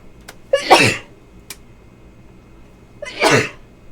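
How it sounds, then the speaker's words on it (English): Two loud sneezes come a few seconds apart, each with a short breathy lead-in and then a sharp explosive burst, close by. "Oh, my sneeze is back."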